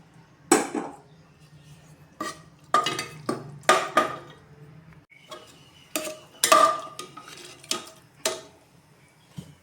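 Metal spoon stirring cooked banana stem and dal with onion and tomato in a pan for a Tamil kootu, giving irregular clinks and scrapes in short bursts, close and fairly loud, with no talking.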